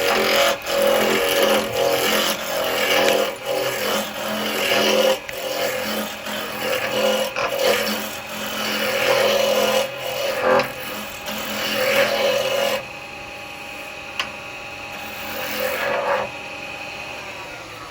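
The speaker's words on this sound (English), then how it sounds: "let's go for a better roughing gouge, bigger roughing gouge, and just get it really quickly roughed down" A roughing gouge cuts wood spinning on a lathe, a loud, continuous rough grinding roar that swells and dips in rhythm with the passes, then drops to a quieter motor hum for the final seconds.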